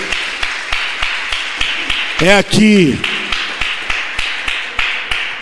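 A church congregation claps in a steady, fairly quick rhythm of sharp, even beats throughout, broken briefly by someone speaking midway.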